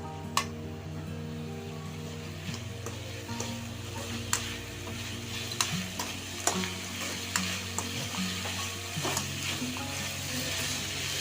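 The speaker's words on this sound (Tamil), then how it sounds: "தேவையான அளவு உப்பு சேர்த்து வதக்கினா சீக்கிரமாக வெங்காயம் வதங்கிடும்." Onions sauté with salt in a pan for restaurant-style chilli idli, a continuous close sizzle broken by sharp ladle clinks and scrapes at irregular intervals.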